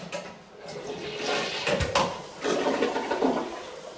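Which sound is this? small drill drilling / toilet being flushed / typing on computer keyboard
toilet being flushed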